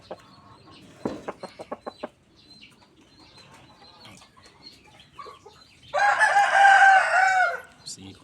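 A rooster gives a quick run of clucks up close, then stays quiet for a few seconds before crowing loudly.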